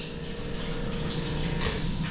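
Reverse osmosis water trickling slowly into a storage tank, a soft steady rush and gurgle of flowing water at low level, unbroken throughout.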